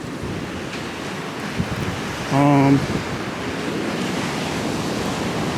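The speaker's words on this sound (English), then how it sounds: "Yeah, it's very windy." Strong wind buffets the microphone on the boardwalk at Rockaway Beach, New York, with choppy surf rumbling underneath, a steady roar throughout and a brief voice cutting through midway.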